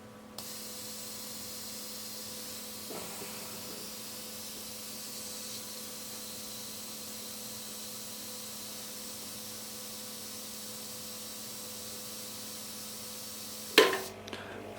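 An airbrush compressor's tank steadily bleeding off its air, a constant soft hiss that holds for many seconds before a sharp click and clatter near the end.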